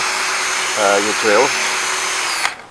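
A handheld drill polishes a car headlight with a Holts headlight restoration kit, giving a steady close whine that runs under a brief spoken voice before cutting off near the end.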